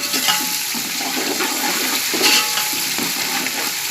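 Garlic, ginger and raw turmeric frying with lightly browned onions for a vegetable pulao, a steady close sizzle with occasional stirring scrapes and bursts of crackle.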